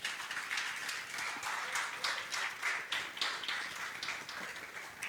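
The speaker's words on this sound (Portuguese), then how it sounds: "Você pode aplaudir o nome do Senhor?" A church congregation applauds with a steady wash of many hands clapping, fairly loud and close, its individual claps blurring into a continuous roar that eases slightly toward the end.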